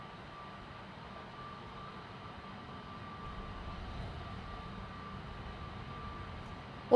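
A Transavia airliner bound for Barcelona starts its takeoff roll at Amsterdam Schiphol Airport, a distant low engine rumble that slowly swells in loudness, ending in a sudden sharp noise.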